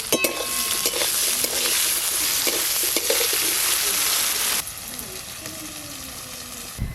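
Potatoes frying with turmeric and salt, likely in mustard oil, in a home kitchen: a loud, dense sizzle with stirring clatter that drops to a quieter steady hiss partway through.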